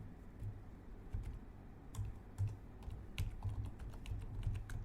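Typing on a computer keyboard under Windows 11, a quick run of light, close key clicks over a low steady hum, with no voice.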